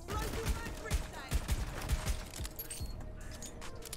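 Irregular pistol shots in a video game, several sharp, punchy reports spaced unevenly amid background game noise, with a voice talking over them.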